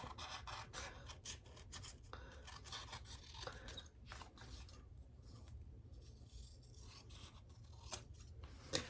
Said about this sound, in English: Then I'm going to cut this out.